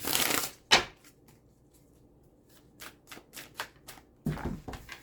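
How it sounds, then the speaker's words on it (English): Tarot cards are shuffled by hand, with a riffling burst at the start followed by a series of quick, close card flicks and taps and a final rustle, with no talking. "Let me shuffle these up a bit."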